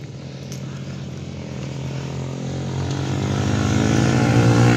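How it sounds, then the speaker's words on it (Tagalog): Motorcycle engine started and running, a steady droning hum with strong low harmonics that slowly grows louder and nearer over several seconds, with no voices. "Naisuga ang motor."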